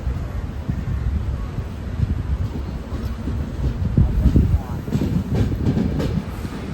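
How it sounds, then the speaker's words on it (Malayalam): The Island Express, train 16525, eases slowly out of a station near Tripunithura, making a low continuous rumble of wheels and carriage noise with faint rhythmic clatter, heard up close from inside a general class coach and building slightly toward the end. "ഇവിടെ 2-3 മിനിറ്റ് നിർത്തിയതിന് ശേഷമാണ് വണ്ടി പതിയെ എടുക്കുകയാണ്"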